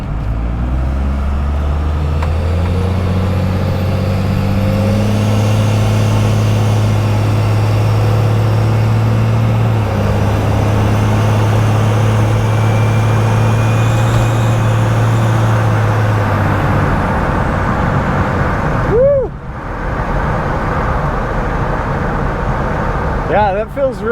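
A 1st Gen Cummins diesel truck with a newly installed Suncoast torque converter pulls hard under acceleration, its low engine drone steady and loud from inside the cab, then easing off near the end.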